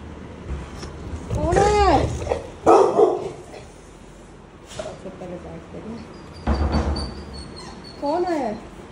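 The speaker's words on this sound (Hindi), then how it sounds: "ये लोग भौंक रहे हैं।" Several dogs bark in short bursts around a home, with sharp close barks and some whimpering between them, the yelps coming in clusters across the clip.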